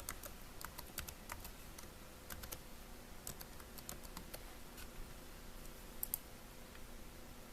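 Keys on a computer keyboard being tapped to enter a password at a Windows 8 login, a quiet, irregular patter of light clicks with a few brief pauses, close by and with no voices.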